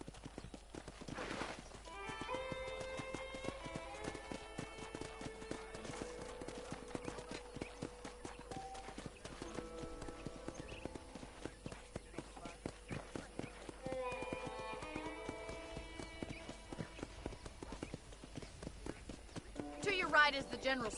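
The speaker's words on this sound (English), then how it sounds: "I picked out a fine horse for you." Hooves clip-clop in a steady walking rhythm under light music in Red Dead Redemption, with a horse whinnying now and then; a voice talks intermittently.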